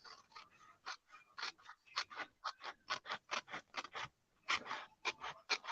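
Scissors snip through paper in a quick, uneven run of about twenty crisp cuts, close and fairly quiet, with short pauses between bursts and no talking.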